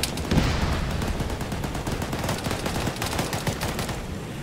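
Tank gunfire in a video game, a sustained run of rapid repeated firing with dense rattling bursts, loud and close, continuous for several seconds with no voices.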